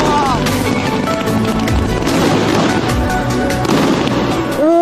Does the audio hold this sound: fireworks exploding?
yes